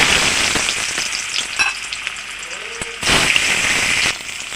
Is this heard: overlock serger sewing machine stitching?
no